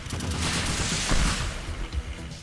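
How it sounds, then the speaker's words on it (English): A six-missile salvo launching in the voxel destruction game Teardown, a loud, dense roar of overlapping blasts and rumbling booms packed into a couple of seconds, with no talk. "I wasn't expecting it to fire 6 missiles at once"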